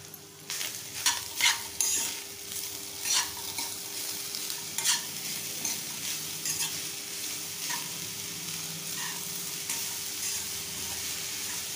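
A spoon stirs and scrapes a filling of fresh grated coconut and jaggery in a pan for mango modak, soft gritty scraping strokes over a quiet, steady sizzle close by.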